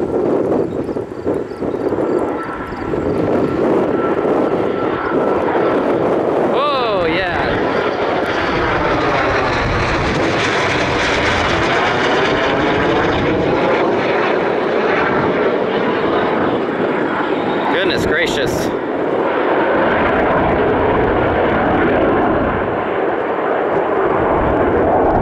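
T-38 jet aircraft flying past at Sioux Falls, a loud continuous roar that swells and shifts in pitch as it passes close overhead, then fades back into a steady drone.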